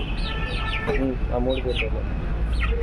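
Several roosters, including three black ones, crow and cluck at close range in a poultry yard, with rising calls and short clucks heard over a steady background hum and nearby talk.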